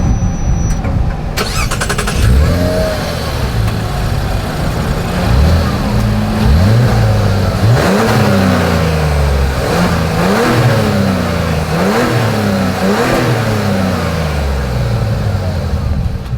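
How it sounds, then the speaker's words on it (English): A 2025 Mazda CX-70 SUV's exhaust revs repeatedly, each rise in pitch falling back to idle in a series of loud, close throttle blips with a steady rumble underneath. "As always, here is that exhaust clip."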